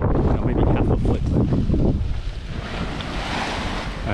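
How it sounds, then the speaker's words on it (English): Steady wind rushing across the microphone with sea and water noise aboard a sailboat offshore in the Florida Keys heading toward the Gulf Stream, in light chop and about 12 knots of wind. The noise is loud, continuous and broad, with no talking. "it's probably 12 knots of true wind, and there's barely a ripple of a wave, maybe half a foot."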